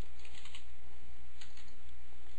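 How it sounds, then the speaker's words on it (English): Computer keyboard typing as HTML tags are entered, quick soft key clicks in uneven bursts over a faint steady hum. "So I'm going to type"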